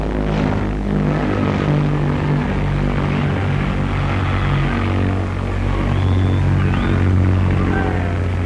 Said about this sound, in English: When 130 tons of aircraft takes off,